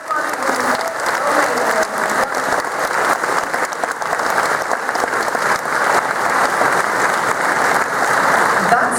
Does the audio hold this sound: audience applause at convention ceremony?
yes